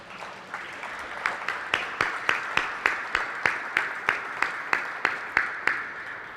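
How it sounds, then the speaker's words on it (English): A conference audience applauds speakers and an MC at a rare-disease event, steady hall-filling clapping with a few louder, rhythmic claps standing out near the front, no voices over it. "I'd actually like to give another round of applause for all of our speakers today and our wonderful MC."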